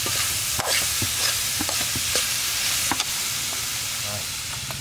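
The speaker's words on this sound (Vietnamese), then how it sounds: "Mình xào chủ yếu cho nó thấm màu được hết luôn." Field crab mixture sizzles loudly in a hot pan while being stir-fried, a steady frying hiss broken by repeated scraping stirs, close and continuous without talk.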